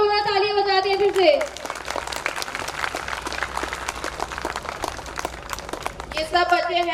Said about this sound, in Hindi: बच्चों की हौसला अफजाई करने के लिए एक बार जोरदार तालियां बजाते हैं फिर से।